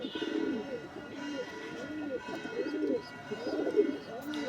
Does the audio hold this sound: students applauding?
no